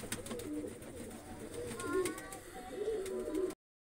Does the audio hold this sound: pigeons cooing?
yes